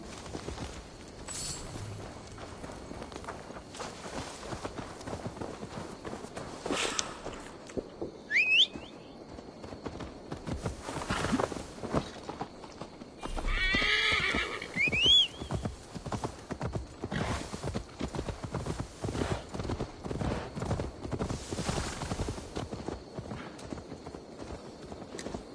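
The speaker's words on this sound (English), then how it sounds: "Now to deliver Magni his horse" Steady clip-clop of a horse's hooves in a video game runs throughout, with a couple of brief whinnies breaking through over a busy game soundtrack.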